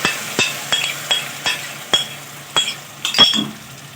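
Leftover masala fries in a spoonful of oil in a kadai, a sequence of loud, evenly spaced metallic clinks and scrapes from stirring over a low sizzle, with no voices.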